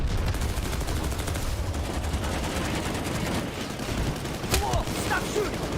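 Heavy, dense gunfire in a PS2 video game, continuous overlapping shots and bursts from a battle, with faint voices underneath.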